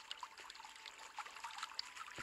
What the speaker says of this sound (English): A creek, maybe.